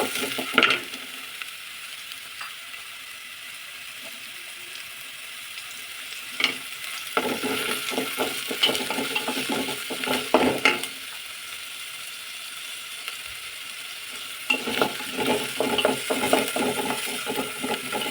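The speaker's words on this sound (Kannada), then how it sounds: "ಸ್ವಲ್ಪ ಇದು ಫ್ರೈ ಆಗಲಿ. ಈರುಳ್ಳಿ ಫ್ರೈ ಆಗಿದೆ." A single onion frying in a pan for ragi soup, soft sizzle under bursts of ratcheting scraping from stirring, with quieter stretches between the stirring spells; no voices.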